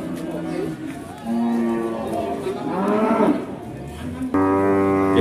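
Cattle at a livestock market in Pati let out several loud, drawn-out moos, close by, over a murmur of background voices.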